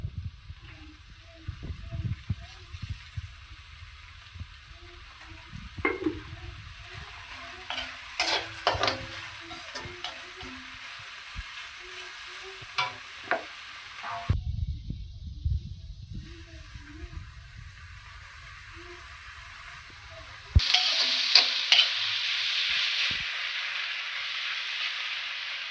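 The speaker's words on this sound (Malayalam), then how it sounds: "ഒരു ചെറിയ ഉള്ളി ഒരു 5 എണ്ണം ചെറുതാണ്. അതൊന്ന് വറുത്ത് പോകണം." Five small onions fry in a pan for chicken curry, with a steady low sizzle and scraping stirs. The sizzle briefly drops out, then returns as a louder, brighter hiss near the end.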